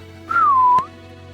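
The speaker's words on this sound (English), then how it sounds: "It's a little slide whistle." A small slide whistle gives one clear, loud gliding tone that rises quickly and then bends slowly downward, cut off by a sharp click near the end, with no talk.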